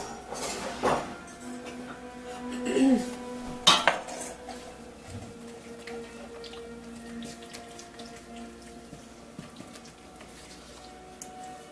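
Batter for an eggless applesauce cake being stirred in a bowl, with a few clinking utensil knocks and soft scraping over quiet kitchen background, no talking.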